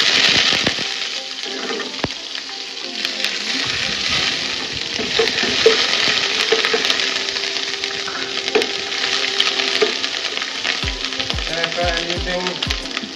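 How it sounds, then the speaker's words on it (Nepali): Ginger and spices frying in a pan, a close continuous sizzle with occasional clinks and stirring scrapes, and a few soft knocks near the end. "त्यसपछि म फर्स्टमा मसला फ्राई गर्न गइरहेको छु है। अदुवा हालेको छु फर्स्टमा।"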